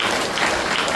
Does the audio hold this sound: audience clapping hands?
yes